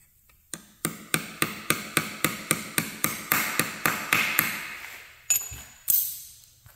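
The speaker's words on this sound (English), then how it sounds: "when I hammer it in and the amount of stick out is the same amount as the vice grip" Hammer strikes driving locating pins into an AR5 transmission bell housing, about a dozen sharp metallic blows in a steady rhythm, close and loud, followed by a pause and two final heavier hits.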